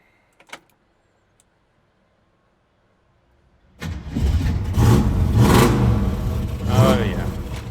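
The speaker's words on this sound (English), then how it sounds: "All right, let's fire her up." A classic Ford Mustang cranks and catches after a few seconds of near silence, then settles into a loud, rough, steady idle with a brief swell near the end, close by.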